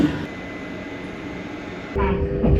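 Chūō West Line local train bound for Nakatsugawa out of Shiojiri, a steady low rumble of the railcar running with a faint tonal whine, swelling louder near the end.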